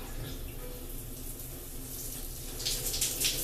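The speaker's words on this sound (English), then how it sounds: "let's go ahead and turn on the shower" Water streams from a handheld shower head in a hotel executive suite bathroom in Boston, a continuous close hiss that grows brighter and more splashy toward the end, with no talking.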